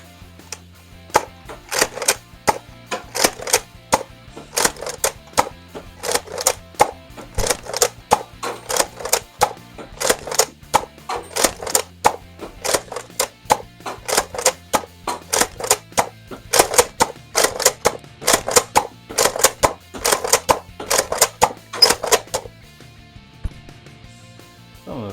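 A Nerf N-Strike Alpha Trooper toy blaster is slam-fired rapidly with yellow darts, producing a fast, sharp run of plastic clacks and thumps in a steady rhythm, close and loud, stopping near the end.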